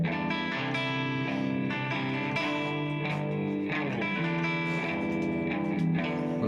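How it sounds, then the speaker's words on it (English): An electric guitar plays a sustained chord progression from a song, washed in reverb and delay so notes blur and echo into a continuous shimmering wall of sound. "that's some reverb and delay"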